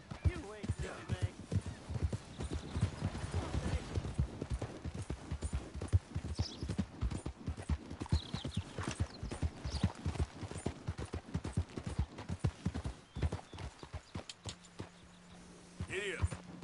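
Horse hooves clip-clop in a steady trotting rhythm in a video game, each footfall a distinct clop, with a voice speaking over them and a brief neigh-like sound mixed in.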